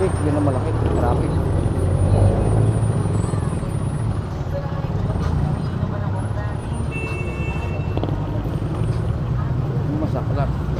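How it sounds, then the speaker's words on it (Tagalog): Dense road traffic in Caloocan near Sangandaan where roadwork is underway, a steady loud rumble of cars, buses and trucks with an occasional air brake hiss, and someone talking over it. "Traffic, yun ang malaki, traffic."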